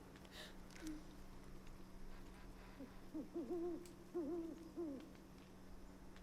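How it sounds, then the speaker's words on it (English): An owl hoots several times in a spooky forest in Lost in Random, soft wavering calls over a steady low ambient hum, fairly distant and with no talking. "I hear an owl."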